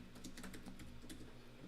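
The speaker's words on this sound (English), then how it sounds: "Let's see if I can type into the comments here." Quick, uneven clicks of typing on a computer keyboard, a short run of keystrokes heard close but faint over a low steady hum, with no talking.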